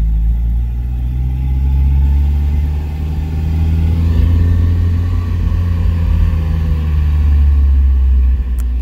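Interior engine sound of a Mazda Miata with a manual gearbox conversion being driven slowly, a steady low rumbling drone with mild rises and falls in revs, loud and continuous throughout.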